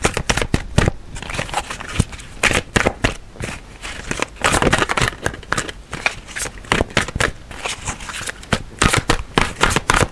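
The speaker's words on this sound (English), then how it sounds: "As I'm shuffling" A tarot card deck being shuffled by hand, a steady run of quick papery riffles and flicks close up, with no one talking.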